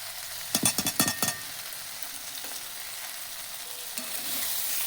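Okra sizzles in a hot pan as poppy seed paste goes in, with a quick burst of sharp crackles and stirring near the start, then a steady low frying hiss that carries on alone.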